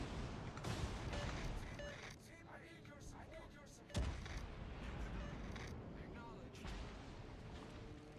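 Warship guns firing in World of Warships Legends: loud, booming salvos with one sharp blast standing out, over a continuous rumble of battle noise while a voice talks throughout.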